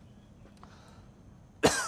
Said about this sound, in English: Sorry, I'm coughing here.